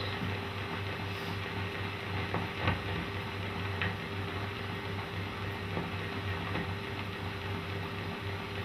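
A 1935 laundry dryer machine in Liverpool runs with steady mechanical whirring and rumbling, faint ticking and rattling, continuous and fairly loud throughout.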